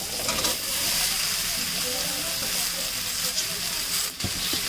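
Steady hissing sizzle of potatoes frying in a pan as diced cucumber pieces are added, continuous and moderately loud with a brief clatter near the end.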